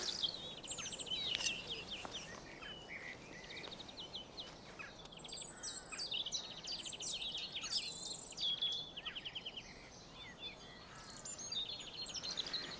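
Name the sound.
birds singing in a spring garden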